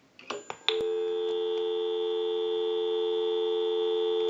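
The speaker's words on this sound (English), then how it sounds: "We'll give you some dial tone. We'll call my number and it'll be busy." A payphone handset gives a few short clicks and tones, then a steady, loud continuous dial tone holds unbroken for several seconds.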